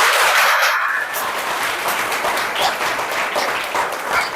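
Audience applause at an Odissi dance workshop, a dense steady burst of clapping that peaks loudly at first, then continues evenly at a slightly lower level to the end.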